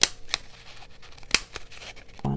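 Scissors snipping star and moon shapes out of paper for junk journal embellishments, a few sharp separate snips spaced apart with quiet pauses between them, fairly close.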